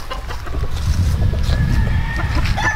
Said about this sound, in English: Ang dami niyang mga manok dito